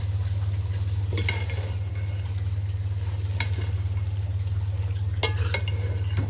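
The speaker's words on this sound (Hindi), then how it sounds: "तो अब हम डाल देंगे इसके अंदर आलू और सब्ज़ मिर्चें और इसको अच्छे से हम भूनेंगे" Potatoes and green chillies fry with fenugreek leaves in a pan, giving a steady low frying hiss under a constant hum, with a few sharp scraping stirs of a spatula scattered through.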